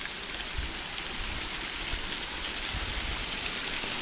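A waterfall along the Grinnell Glacier hike in Glacier National Park gives a steady, full roar of rushing water that holds constant throughout, close and loud with no voices.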